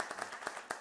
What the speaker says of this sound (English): So let's just start with a round of applause.